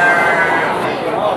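Garut sheep bleat amid the steady din of a sheep market, with animal calls blending into dense crowd noise and people talking nearby throughout.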